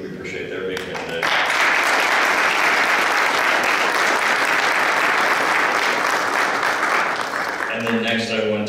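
Loud, sustained applause from a crowd rises sharply and holds steady for several seconds, with a voice audible briefly before and after.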